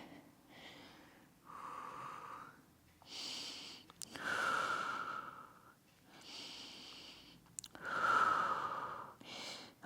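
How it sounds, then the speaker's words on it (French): Slow deep breaths during a Pilates stretch in child's pose, several long audible inhales and exhales in a steady rhythm, close and breathy with a faint wheeze on some breaths and no talk. "Je respire bien."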